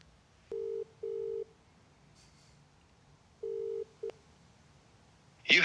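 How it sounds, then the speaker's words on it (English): A phone call rings out through a handset speaker: several short, evenly pitched ringback tones in pairs with gaps of quiet between them, fairly clear, then a brief burst of noise at the end. "we'll try and get in contact with the human Keel through my phone"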